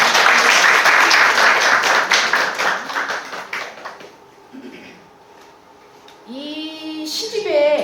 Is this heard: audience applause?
yes